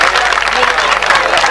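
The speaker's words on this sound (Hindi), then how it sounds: "इस अच्छी गल वास्ते तालियां होनी चाहिए" An audience at a Punjabi-language gathering breaks into loud, dense clapping, a close and continuous wash of many hands with voices mixed in.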